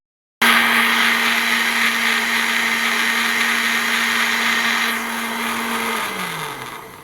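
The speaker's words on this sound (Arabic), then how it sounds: "هبتدي اشغل عليهم الخلاط" Three eggs are beaten in an electric kitchen blender, which gives a loud, steady, close whirring hum that runs evenly for several seconds and then winds down as the motor slows near the end.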